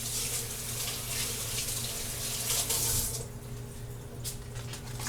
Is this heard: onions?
no